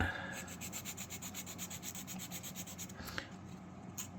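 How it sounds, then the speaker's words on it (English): Small wooden part of a Model Shipways dory kit being hand-sanded, with quick regular back-and-forth rubbing strokes, soft and close, in a steady rhythm of about five strokes per second. "I probably should sand that off too, just in case. I think I'll sand it."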